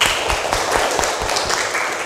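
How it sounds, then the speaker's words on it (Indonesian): Classroom applause from students in an Indonesian teacher-training lesson, a short burst of dense, steady clapping filling the room at moderate loudness, with no talk over it. "Silakan kasih tepuk tangan dulu."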